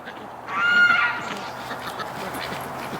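A Muscovy drake chases a female duck across a yard in winter, with a single loud honking call lasting about half a second near the start, then faint outdoor background noise.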